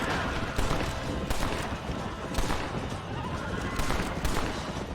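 Rifle gunfire in a Red Dead Redemption battle at Fort Mercer, scattered sharp shots over a dense, noisy firefight background, moderately distant and mixed with game ambience.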